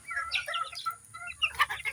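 Chickens clucking at a small backyard coop in the morning, several birds with short overlapping clucks and squawks, close and moderately loud, with no talking.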